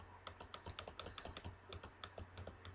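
Computer keyboard keys are pressed in quick, uneven bursts of close clicky taps while working in an Excel spreadsheet, steady and moderately quiet with no voice over them.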